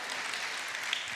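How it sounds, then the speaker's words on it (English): Brief, faint, steady patter of polite applause from a sermon audience after a bad joke, a soft hiss of many hands clapping without a clear rise or fall. "Mercy applause, I'll take it."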